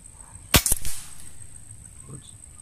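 Air rifle fired with JSB 18.13 pellets at a target 50 yards away, one sharp close crack followed by quick echoing reports, with a faint voice afterward and a steady high whine in the background.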